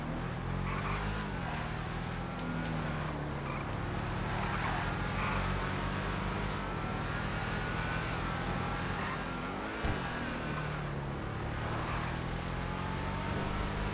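A Rampant Rocket three-wheeler in the GTA FiveM video game, its engine running in a continuous loud buzzing drone with small rises and dips in revs over a lap, heard without talk.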